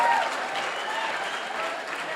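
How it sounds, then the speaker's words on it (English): An audience at a large AA convention in New Orleans claps in a sustained, even burst of applause, a crowd-wide patter at moderate volume that continues without letup. "Everybody's clapping."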